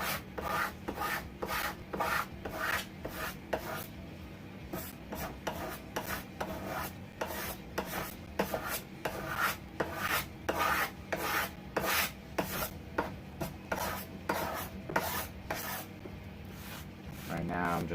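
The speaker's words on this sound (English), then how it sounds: "push it on the piece of wood and scrape" Sharpened card scraper drawn across wood in quick repeated strokes, a rhythmic rasping scrape over and over, close and steady throughout.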